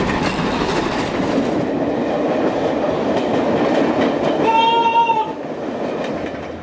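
Travelling post office train on the Great Central Railway accelerating past, a loud continuous rumble and rattle of wheels with a brief tonal horn-like whistle near the end.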